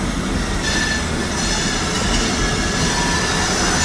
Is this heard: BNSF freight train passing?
yes